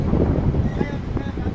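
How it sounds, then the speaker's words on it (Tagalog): Strong wind buffets the microphone at a seaside port, a steady, close, low roar with gusting surges, alone with no voices. "Sobrang lakas na ng hangin."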